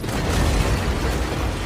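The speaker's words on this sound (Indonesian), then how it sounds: "terjadi ledakan" Explosion in an action film, a loud sustained rumbling blast with broad roaring noise that fills the whole moment without letting up.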